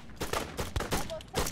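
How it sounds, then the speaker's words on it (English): A movie scene carries a rapid volley of rifle gunfire, several quick muffled shots in a cluster, sitting under a voice talking over the scene. "We just go randomly shoot out into the field."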